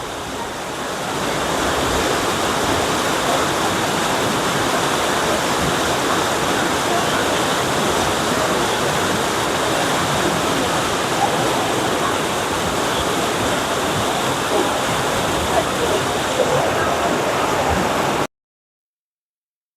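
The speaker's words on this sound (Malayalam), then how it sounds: "അതുകൊണ്ടാണ് വെള്ളം ഒഴുകുന്നത്" Rushing water flows loudly and continuously beneath the Mathur aqueduct, a dense broadband roar close by that cuts off abruptly at the end.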